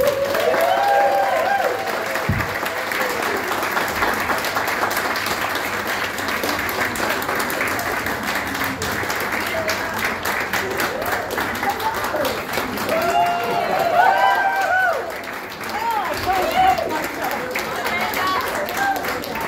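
A thunderous round of applause from a crowd at a Prisoner Cell Block H cast legends lunch as Amanda Muggleton arrives, dense sustained clapping with some cheering, loud and continuous, with voices faintly mixed in.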